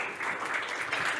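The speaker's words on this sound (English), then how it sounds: "Round of applause, please." Audience applause at a tech-bio and health tech startup pitch forum, a steady wash of many hands clapping, somewhat distant and soft, with no speech over it.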